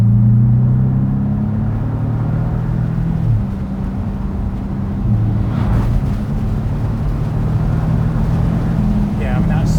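A Porsche Boxster T pulls hard in third gear in sport mode, its engine note a steady droning growl that dips briefly mid-run and then keeps building, with someone talking over it.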